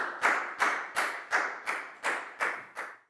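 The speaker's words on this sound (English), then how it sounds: "High five and a big round of applause for Pat" Steady, evenly spaced claps in a classroom, eight distinct sharp slaps close by, applauding a student and tapering slightly at the end, with no voices over them.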